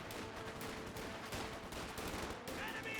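Gunfire from a Wagen unit putting rounds into a garrisoned building in Company of Heroes 2, with dense, rapid volleys of shots rattling continuously at moderate loudness amid battle noise.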